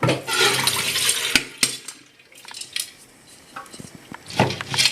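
Water pours and splashes steadily through a strainer into a pot set in a sink, with a few sharp clanks of metal and dishes as the flow trails off.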